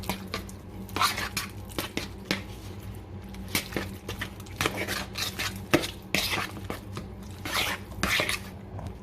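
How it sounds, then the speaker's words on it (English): A fork stirring lasagna ingredients together with chopped parsley in a dish: close, irregular clinks and scrapes of metal against the bowl, with soft squishy mixing in between. "We'll stir that in together. The fork will be nice."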